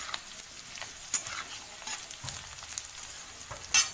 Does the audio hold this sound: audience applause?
no